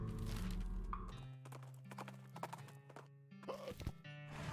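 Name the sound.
horses clip-clopping in a video game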